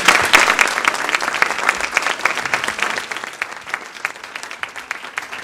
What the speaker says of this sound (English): Nice round of applause for Wolf